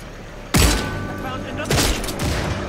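Two heavy gunshots in Redfall, a first-person shooter, each a loud sharp crack with a booming tail, about a second apart over quiet background.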